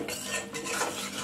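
Beans and prawns being stirred in a pan for a Bengali borboti bhaji, a brief close burst of spatula scraping and clinking against the pan over a soft sizzle.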